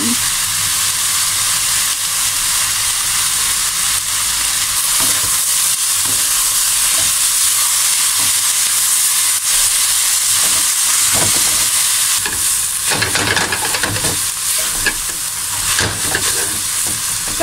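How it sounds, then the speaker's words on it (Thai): Loud, continuous sizzling of vegetables stir-fried in a small wok with oyster sauce, with scraping and clinking of a utensil against the metal that grows busier toward the end. "เสียงดังช่องเช่งช่องเช่ง ผัดได้เต็มที่นะนี่กระทะมันเล็กมีคนไม่ค่อยสะดวกเลย"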